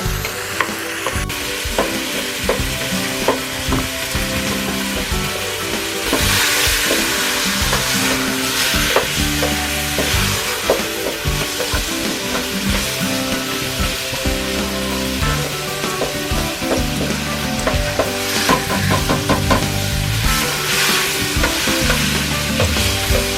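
Ground beef and ground pork sizzling in a pan of ragu while being stirred, a continuous loud frying hiss with scraping stir strokes throughout.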